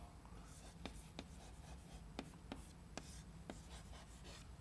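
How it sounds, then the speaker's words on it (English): Chalk or pen writing out fluid-dynamics equations during a lecture on wall-bounded turbulent shear flows, with soft scratchy strokes and several sharp taps spread across the clip, quiet and close, with no speech. "or we can just write"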